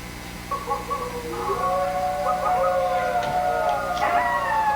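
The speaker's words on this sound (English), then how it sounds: "Every dog for a mile around. They sound like howls in terror." Many dogs howl together at night across a wide area, long wavering overlapping wails that swell into a sustained chorus, fairly loud and steady.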